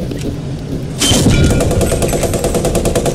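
Tank gunfire from a Stuart light tank in the WW2 game Post Scriptum at Carentan: a sharp loud blast lands after a second, followed by a rapid, evenly spaced rattle of automatic fire.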